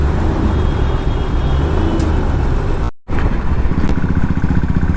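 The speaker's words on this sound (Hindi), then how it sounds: "मुंबई का traffic, I am telling you" Dense Mumbai road traffic near Worli, a loud, constant wash of car and motorbike engines close by, with passing vehicles and brief whirs throughout.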